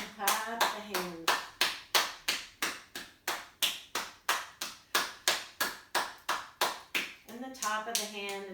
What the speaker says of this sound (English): and clap the hands.